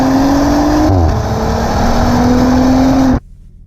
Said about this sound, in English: Quite a nice sounding engine too, I would say.